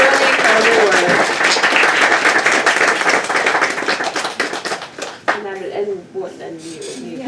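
Loud, sustained clapping and cheering from an audience at a book event with two authors, filling the room and then thinning out toward the end as voices come through.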